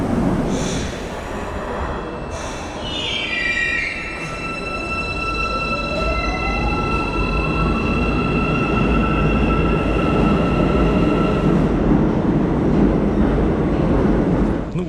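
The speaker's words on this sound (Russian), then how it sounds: "Вот мы и прибыли на конечную станцию алматинского метро" An Almaty metro train rumbles steadily while its wheels and brakes squeal in rising and falling whines as it slows to a stop at Moskva terminal station, loud and close.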